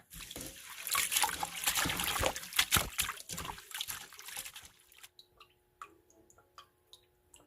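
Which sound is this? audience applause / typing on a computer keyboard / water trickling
water trickling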